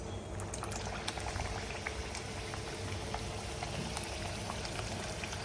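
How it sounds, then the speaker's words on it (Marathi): Chicken kheema samosas fry in oil over a low flame, giving a dense, continuous sizzle and bubbling crackle that stays even and close throughout, with no voices. "तर हे मंद आचेवर आपल्याला फ्राय करायचे आहेत, ब्राऊन होईपर्यंत प्रॉपर."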